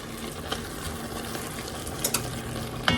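Jamaican curry goat is stirred in a pot as it sweats down, giving a steady, close sizzle with a few scraping clinks of the spoon against the pot.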